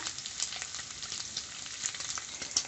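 Pork fat sizzles and crackles steadily in a hot frying pan, a dense bright hiss with scattered pops, close up and unbroken.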